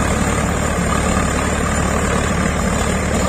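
Swaraj 855 tractor pulling an 8-foot rotavator through heavy soil: a loud, steady broadband engine drone with rumbling low end runs continuously throughout, no voices.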